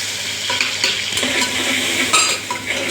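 Chillies and spices sizzling in a hot pan while a spoon stirs them steadily, with small scrapes and clinks against the metal over a continuous close frying hiss, no talking.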